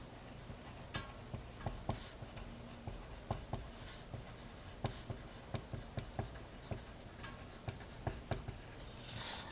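A pen scratching as someone writes a title by hand, with soft strokes and small taps in an irregular rhythm, heard close and quiet throughout with no speech.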